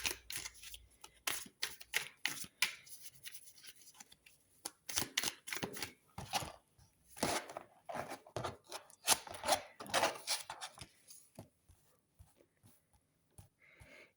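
Tarot cards being shuffled for a reading: a run of quick, crisp riffling and slapping bursts, close and fairly soft, with short pauses between them and no talking.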